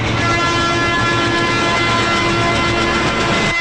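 A passenger train departs a station in an old Telugu film scene, its loud rumbling wheels and clattering carriages running continuously, with a horn sounding over the din.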